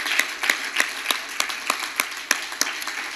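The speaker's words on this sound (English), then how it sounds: "Give them another good hand clap." A church congregation claps their hands at a sermon service, making steady, evenly spaced claps about three per second. The clapping is moderately close and has no talk over it.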